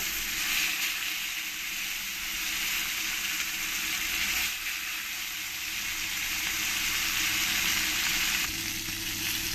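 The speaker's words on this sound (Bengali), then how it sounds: "পরের মাছগুলো আমি এই একই রকম করে ভেজে নেব" Koi fish fry in hot oil with a continuous, dense, close sizzle that holds steady throughout, with a soft shift in tone partway through.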